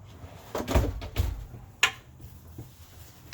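Closet or drawer doors on a 2021 Grand Design Imagine 3100 RD travel trailer open and shut in a few close, hollow thumps and knocks, with a sharper click near the end, heard alone in a quiet interior.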